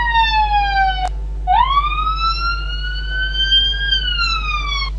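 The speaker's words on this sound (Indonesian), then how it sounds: "kemudian ada ambulan dengan sirine yang melintasi kalian" An ambulance siren wails loud and close for about five seconds, with a brief break before its sweeping tone resumes and shifts pitch as it passes, over a steady low hum.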